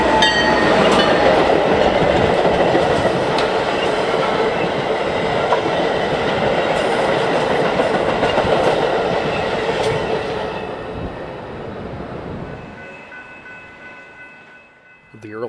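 Metra commuter train led by blue-and-red F40PH locomotive number 116 passing on the BNSF line near Chicago: loud, close rumble and wheel clatter that holds steady, then fades away as the train recedes.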